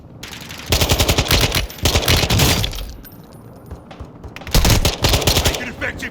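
Bursts of automatic gunfire in the video game Warzone 2.0, loud rapid rattling volleys in several stretches separated by brief quieter gaps, with faint crackling in between.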